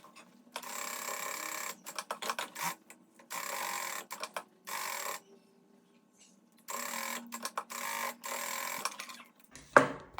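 A sewing machine runs in short bursts, stitching fabric all the way around the sides of a bag, with close, clattering runs separated by silent pauses and a longer break in the middle before stitching resumes.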